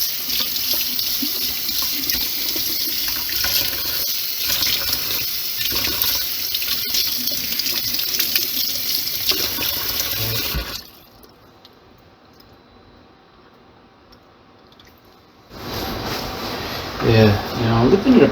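Warm water runs from a tap into an apartment sink in a steady, close rush, stops abruptly for several seconds, then starts again, with someone talking over it.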